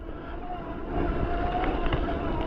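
A 2 kW electric BMX runs at full throttle outdoors, producing a steady loud whine and rumble that grows stronger after the first second, mixed with rushing wind noise.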